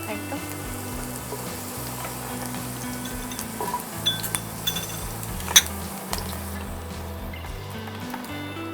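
Fried potatoes sizzle steadily in hot oil in a home kitchen, with a continuous crackle broken by a few sharp clinks of a utensil against the pan as pieces are lifted out onto a plate.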